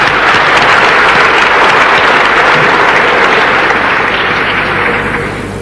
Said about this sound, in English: We must give him another applause